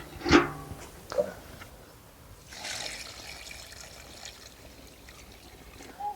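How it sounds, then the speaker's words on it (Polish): Water is poured over dry, dehydrated manure to soak it for fertilizer. A few knocks are followed by a soft, steady trickle and splash that runs on at moderate volume outdoors. "Zalewam biologicznie żywą wodą."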